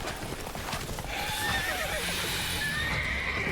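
Roach, Geralt's horse in The Witcher video game, neighs with a shrill rising whinny over a patter of hoof clip-clops, close and clear.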